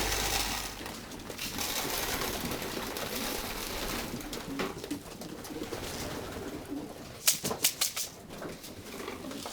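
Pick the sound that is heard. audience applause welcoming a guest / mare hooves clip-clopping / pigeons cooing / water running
pigeons cooing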